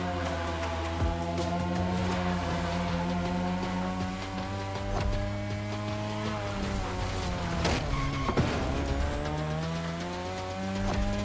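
Engine drone and screeching tires from a car drifting in The Crew Motorfest racing game, steady and loud throughout with sliding squeals and gear-shift dips, played alone without talk.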